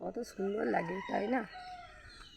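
A rooster crows once in a green rural setting on an early morning, a clear nearby call lasting about a second. A person speaks briefly around it.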